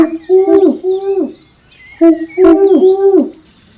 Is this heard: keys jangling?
no